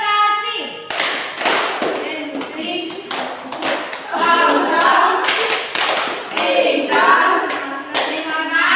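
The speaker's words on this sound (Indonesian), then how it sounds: "Tepuk terima kasih." A group of children at a church Sunday-school session does a patterned thank-you clap, bursts of sharp hand claps in rhythmic sets alongside lively chanting and children's voices.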